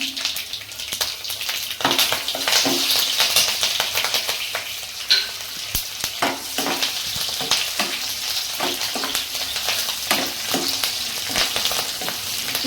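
Urad dal, chana dal, dried red chillies and green chillies sizzle in hot oil, a steady crackling fry broken by sharp spatters and stirring scrapes, with no voices.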